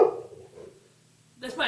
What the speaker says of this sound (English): That's my attack dog.